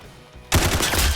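A Tommy gun firing in a Roblox CS:GO game, one sudden burst of rapid automatic shots cracking in close and loud after a brief quiet moment.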